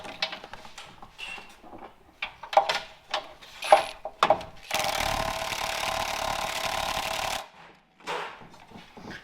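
An impact-style power tool on a long extension with a wobble joint works on truck motor mount bolts, giving a loud steady buzzing rattle of a few seconds amid clanks and shuffling, with talk around it.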